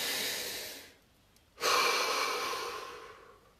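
A deep breath in a guided muscle-relaxation session: a close, airy inhale, a short pause, then a long breathy exhale that slowly fades, with no talking.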